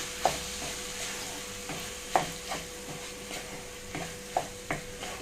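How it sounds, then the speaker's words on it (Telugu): Rice stirred into a tomato mixture in a pan on low flame, soft scraping strokes with a light sizzle underneath, several distinct spoon clicks spaced a second or so apart, close and quiet. "ఈ రైస్ అంతా కూడా ఈ టమాటో దాంట్లో చక్కగా కలిసిపోవాలి."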